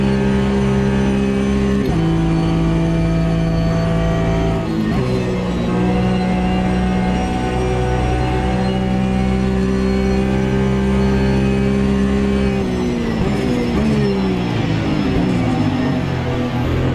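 Race car engine in the AMS2 racing game, a loud sustained whine climbing and dropping through gear shifts across the lap, continuous with no talk.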